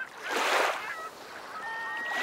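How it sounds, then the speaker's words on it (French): Seagulls cry above the sea near colourful fishermen's huts; a broad wash of surf-like noise swells early, then thin drawn-out gull calls carry faintly over it. "les cris des mouettes dans le ciel"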